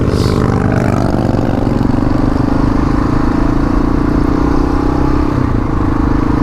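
KLR650 motorcycle engine droning steadily while riding, a loud close hum with a slowly rising pitch and constant wind rush throughout.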